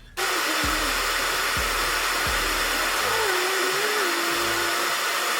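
A handheld hair dryer blows steadily on hair during a lace closure wig install, a close, constant loud rushing whoosh with faint low thumps as the airflow shifts.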